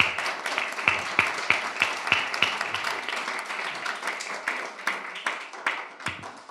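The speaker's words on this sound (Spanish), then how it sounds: "yo les agradecería un aplauso muy fuerte" A conference audience at a film presentation applauds, with distinct individual hand claps in an uneven, loosely rhythmic patter, fairly close and strongest early on before thinning out.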